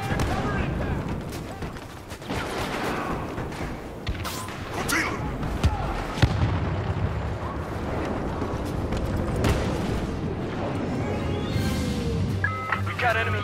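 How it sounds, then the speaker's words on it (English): Airstrike explosions in Star Wars Battlefront on Hoth: a dense battle mix of repeated booms and gunfire bursts rolls continuously, with voices heard through the combat noise. "Airstrike incoming."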